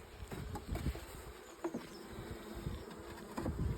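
Buckfast honey bees freshly shaken into a hive make a close, continuous buzzing hum, with individual insects droning in and out across the few seconds and no voices.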